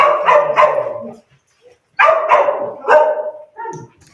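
Excited puppies barking at a socialization class, two bursts of several sharp close barks and yips with a short pause between, loud and distinct.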